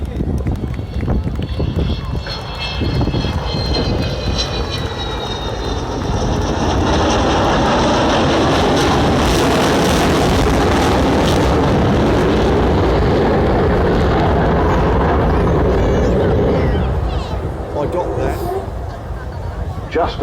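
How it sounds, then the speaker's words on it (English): An Avro Vulcan XH558 bomber powered by four Rolls-Royce Bristol Olympus 202 engines flies a display pass. The jet roar is loud and sustained, swelling to a broad, heavy rumble and then easing slightly, with a commentator talking over it. "a touch on the throttles of the 4 Rolls-Royce Bristol Olympus 202"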